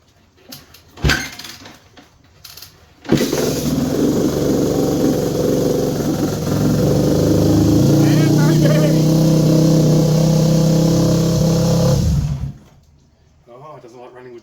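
A Yamaha WR250F motorcycle engine runs with the choke on: a few short knocks, then a loud, steady, rough idle that swells slightly in the middle before cutting off abruptly near the end.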